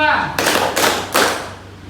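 Two sharp hand claps, well spaced, during a group clapping game in a class session, following a brief voice at the start.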